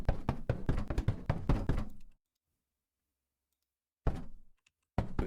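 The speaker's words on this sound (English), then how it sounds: "I'm gonna imagine that I didn't hear something knocking on the door" Knocking on a door in the game Isolated Inhale: a quick run of loud raps for about two seconds, then silence, then two more short bursts of knocks.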